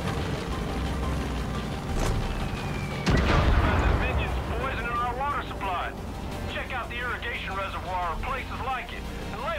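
Gunfire and explosions from combat in the Far Cry 5 video game rumble and crack, with one heavy blast near the middle, while a person talks over the fighting.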